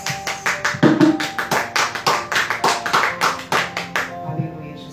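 Church congregation claps in a steady rhythmic beat during a communion service, loud and close, then fades out near the end as a voice begins.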